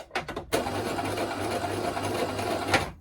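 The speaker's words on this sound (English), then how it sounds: "And I'm going to back stitch it." A sewing machine back-stitches a teddy bear seam with a few quick stutters, then whirs steadily for about two and a half seconds, close by.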